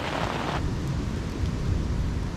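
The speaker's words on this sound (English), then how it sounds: "right now it is raining a lot" Heavy rain and storm noise at a remote island campsite, a steady loud broadband wash with brighter hiss in the first half-second, continuous and alone with no talking.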